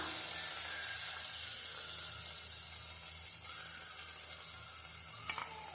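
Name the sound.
butter beans, beans and carrot sautéing in oil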